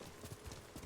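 Horse hooves clip-clop faintly in a quick, even rhythm during a ride in Ghost of Tsushima, a short, quiet burst of game audio with no talk.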